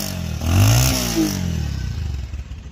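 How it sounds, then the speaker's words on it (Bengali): A Bajaj Pulsar DD ABS motorcycle engine running close by in a used bike shop, with a quick rev that rises and falls, then settles into a steady idling thrum with light mechanical clatter. "বাইকটার সাউন্ড কোয়ালিটি একদম নতুন বলা চলে,"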